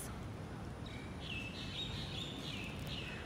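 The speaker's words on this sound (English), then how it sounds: "birds are singing." Birds chirp and sing near public housing blocks in Singapore, a few thin high calls drifting in and out over a steady outdoor hum, moderately distant and fairly faint.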